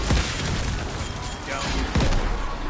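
A grenade explosion in Call of Duty: Cold War zombies, heard as a couple of heavy booms in the midst of dense, loud game noise and gunfire, with a voice speaking over the action.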